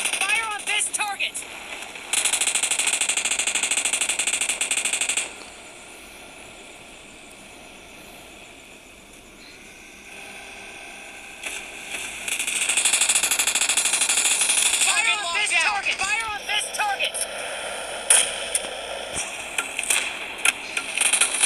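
Automatic gunfire in the PUBG Mobile shooter game, rattling in rapid bursts at moderate loudness, with a quieter lull between volleys and game voices calling out over the shooting.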